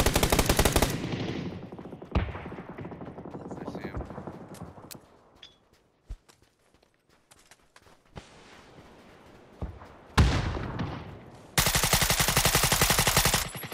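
Video game firefight with bursts of automatic gunfire, loud at the start, scattered sharp shots through a quieter middle, then heavy sustained bursts returning near the end.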